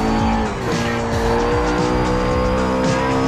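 Tire squeal and steady engine roar from a car drifting sideways through a corner in the video game CarX Drift Racing, loud and continuous throughout with no talking.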